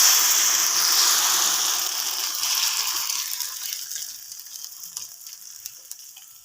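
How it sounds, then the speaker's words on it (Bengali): Kohlrabi paste drops into hot oil with whole cumin seeds, giving a loud, bright sizzle close up that slowly fades and thins over several seconds. "এবার আমি কপি বাটাটা দিয়ে দেবো।"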